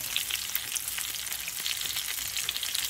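Mushrooms sizzling steadily in clarified butter in a frying pan, a dense, even crackle of frying that runs unbroken and fairly close, with no voices.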